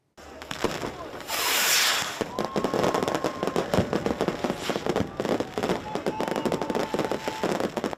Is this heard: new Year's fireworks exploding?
yes